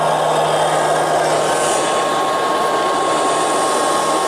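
Liectroux B3000 robot vacuum cleaner running while sweeping a room: a steady, close whirring motor hum with a continuous airy hiss, unchanging throughout and with nobody talking.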